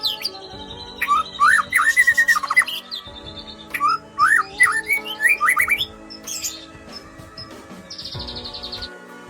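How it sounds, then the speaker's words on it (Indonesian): An oriental magpie-robin (murai batu) singing loudly up close, bursts of sharp whistled phrases, chirps and rapid trills in repeated sequences separated by short pauses, with a harsher buzzy note near the end. "Jadi murai batunya itu bisa gacor, seperti yang kalian lihat di video."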